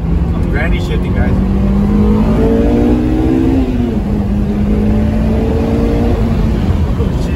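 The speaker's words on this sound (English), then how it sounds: "You can sort of hear the intake a little bit more." A Honda S2000 with a newly installed intake accelerates hard and loud up close. Its engine tone climbs steadily, drops briefly at a gear shift, then rises again under heavy induction roar.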